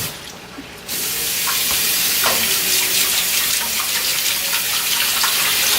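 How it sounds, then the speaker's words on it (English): Hot water gushes from a kitchen tap into a pot while cooking jollof rice, starting after a quiet moment and then running as a loud, steady rush that keeps going to the end. "I'm going to add hot water to it."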